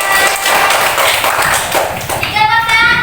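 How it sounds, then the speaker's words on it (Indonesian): Pupils in an Indonesian Islamic studies classroom clap for a correct answer, producing brisk, rhythmic patter close by, mixed with children's voices and a bright ringing tone near the end. "Betul, beri tepuk tangan."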